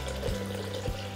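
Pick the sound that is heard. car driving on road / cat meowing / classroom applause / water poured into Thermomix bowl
water poured into Thermomix bowl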